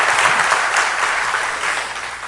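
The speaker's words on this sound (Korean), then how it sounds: "박수 한번 쳐야 되겠죠?" Loud, dense applause from a hall audience at a public talk with a city mayor, continuous and close, easing slightly toward the end.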